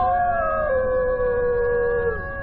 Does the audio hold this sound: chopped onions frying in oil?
no